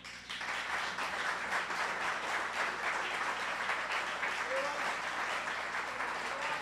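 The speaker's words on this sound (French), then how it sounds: "s'il ne fait pas l'objet d'une salve d'applaudissements, c'est que ce Café Philo n'a pas eu lieu" Sustained applause from the audience after a Café Philo lecture, a thick, even roar of many hands clapping at once that continues steadily at moderate loudness, with faint voices mixed in.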